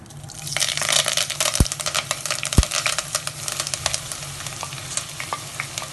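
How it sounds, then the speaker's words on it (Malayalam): Sliced onions, green chilies and curry leaves sizzle steadily in hot oil for a prawn roast, with a continuous crackling fry, scattered pops and a few sharp clinks of a spoon against the pan, close and fairly loud with no talking. "ചെറുതായിട്ട് പൊട്ടിട്ടുണ്ട് ഇനി അതിലേക്ക് നമ്മൾ അരിഞ്ഞ് വേണ്ട സവാള പച്ചമുളക് കറിവേപ്പില ഈ മൂന്ന് ഐറ്റം മതി ഇതിലേക്ക്"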